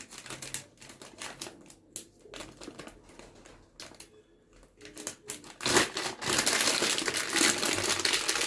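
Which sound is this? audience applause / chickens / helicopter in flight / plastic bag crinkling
plastic bag crinkling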